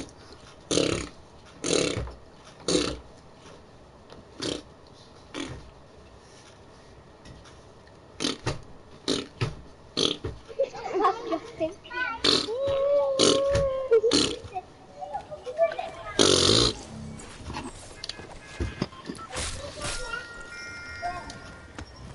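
A voice imitates fart noises with the mouth, giving brief, scattered spluttering bursts, then a longer rasping stretch midway, mixed with rustling and talk.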